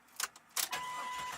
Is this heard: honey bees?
no